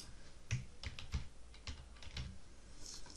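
Computer keyboard keys clicked in several quick, uneven bursts while a name is typed during software setup, close and fairly quiet, with no voices.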